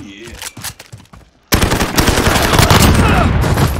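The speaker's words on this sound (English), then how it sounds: "I'm going for the machine gun over here. Oh, it's 50 cals." A .50 cal machine gun in Call of Duty Modern Warfare fires, with a few scattered shots at first and then a sudden loud, sustained burst of rapid automatic fire from the middle to the end.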